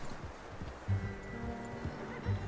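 A horse in the Red Dead Redemption 2 video game, with a few soft hoof thuds and rustling under faint background sound and game music.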